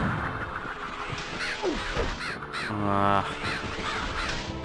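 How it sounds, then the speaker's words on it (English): Crows caw repeatedly in the video game Medievil, several harsh calls overlapping game ambience, with a brief vocal exclamation from a player. "The crows."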